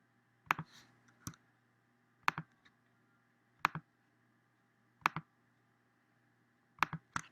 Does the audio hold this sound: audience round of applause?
no